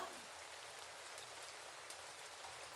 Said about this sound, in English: the rain comes down.